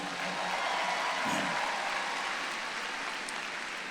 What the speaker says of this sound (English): One more round of applause for our undergraduates.